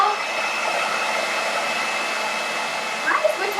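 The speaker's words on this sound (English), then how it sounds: "I'll turn my blow dryer on." A handheld blow dryer runs steadily, a continuous airy whoosh with a faint motor whine, close and fairly loud, used to float a ping pong ball on its airstream, with a few brief bumps near the end.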